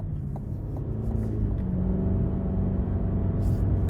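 A 2023 Cadillac CT5 Premium Luxury's 2-liter turbo four-cylinder with 10-speed automatic hums steadily while driving, a continuous low cabin drone with a faint even rumble and no voices.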